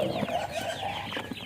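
Rhode Island Red chickens cluck in short, overlapping calls, close by and fairly loud, in a brief burst of farmyard chatter.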